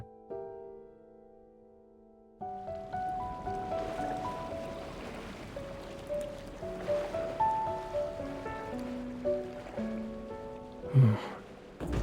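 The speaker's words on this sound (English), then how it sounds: "Listening to the ocean might help us fall asleep." Ocean surf washes steadily onto a shore in a video game, a soft broadband rush that swells and recedes beneath gentle chiming musical tones, with no talking.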